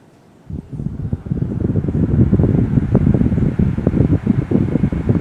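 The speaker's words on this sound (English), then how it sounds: "our only table fan. This is a no-name Walmart fan, 3-speed. I think it's 12-inch." A cheap no-name Walmart 12-inch three-speed table fan with clear blades and a metal grill switches on and runs, a steady close whooshing airflow with rapid fluttering buffeting, alone without talk.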